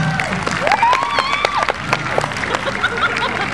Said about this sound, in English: give us some applause if you can.